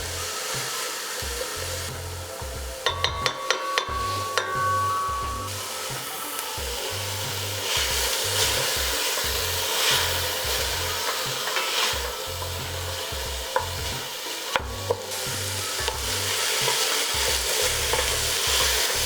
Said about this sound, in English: you want to saute these for about 5 minutes until the onions